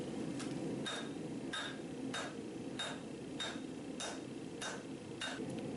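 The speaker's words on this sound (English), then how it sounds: "So I keep hammering it, just making sure both sides are even." Hammer blows strike hot steel from a farrier's rasp being forged into a tomahawk at a steady rhythm, about eleven sharp ringing hits, with a faint background hum.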